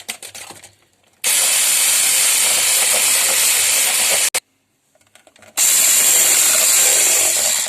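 An electric mixer beats cream with powdered sugar for a lemon parfait, running as a loud, close whirring hiss in two long bursts separated by a short pause.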